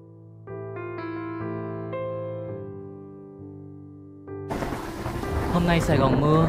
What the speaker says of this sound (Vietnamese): Hôm nay Sài Gòn mưa.